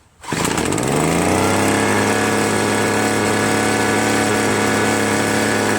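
Small gas engine of a Craftsman Bushwacker hedge trimmer starting up and running, a loud close steady buzzing drone that settles to a constant pitch after a brief rev at the start.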